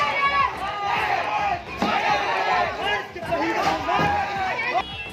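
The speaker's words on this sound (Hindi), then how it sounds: "हंगामा मचा है। भीड़ गुस्से में दिख रही है।" An angry crowd in uproar outside a police station in Kulti, Asansol, West Bengal, with vehicles set on fire; dense, loud shouting and agitated voices overlap continuously, close and chaotic throughout.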